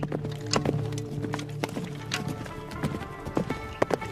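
Horse hooves clip-clopping at a quick pace under a mounted archer, steady hoof strikes with occasional louder thuds close by, plus faint background clatter.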